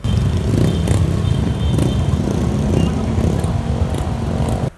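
A group of Honda Click scooters with big tires and open exhaust pipes riding off together, making a loud, continuous, raspy engine roar close by that holds steady and then cuts off abruptly.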